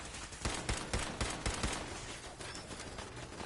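Automated turrets in Fallout 4 open fire on a synth, a rapid burst of sharp gunshots in an uneven volley over a dense noisy game backdrop, loud and close.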